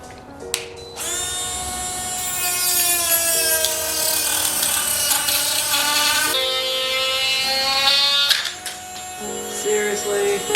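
Dremel rotary tool cutting through a plastic car panel, a continuous high-pitched whine holding steady for several seconds, dipping in pitch as it bites into the material, then stopping and restarting near the end.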